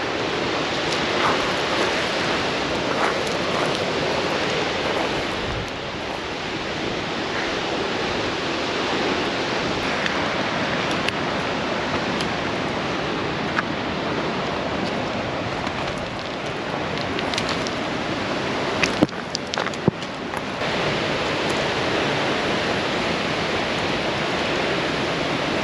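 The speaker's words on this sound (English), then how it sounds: "hear the sound of the waterfall" Close by, the second-highest waterfall in Canada roars with a constant, dense rushing wash of falling water that stays loud and steady throughout, with a few brief small knocks and no speech.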